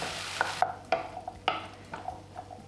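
Vegetables stirred in a hot pan with barbecue sauce, soft sizzling under several distinct scraping stir strokes, fairly quiet and close.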